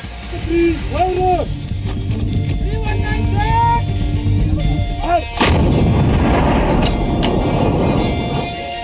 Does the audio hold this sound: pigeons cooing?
no